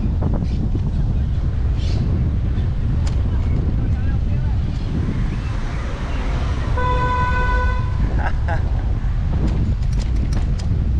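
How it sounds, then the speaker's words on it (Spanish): Over heavy wind and traffic rumble, a car horn honks once in a sustained blast for about a second, with shorter toots just after. "No tuvo paciencia que tocó bocina enseguida"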